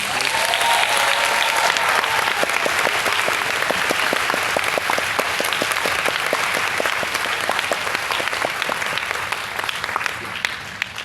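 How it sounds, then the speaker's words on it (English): An orchestra audience claps for the flutes, clarinets, oboes and bassoons, a long, full round of applause with crisp individual claps audible throughout, holding steady and easing slightly toward the end. "Let us give a round of applause to the flutes, clarinets, oboes, and the bassoons."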